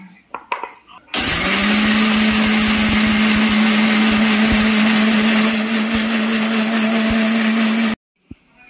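A kitchen blender whirs loudly and steadily for about seven seconds, grinding ginger and green chillies into a paste for Bengali shukto, starting and stopping abruptly with no voices over it.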